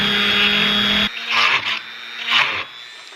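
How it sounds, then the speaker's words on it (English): A Dremel drilling through plastic welds on Toyota Tacoma chrome trim: a steady high whine for about a second, then cuts off, followed by two short bursts of grinding as the bit bites into the plastic, close and loud. "just using a Dremel, hitting the center of those, drilling through each one"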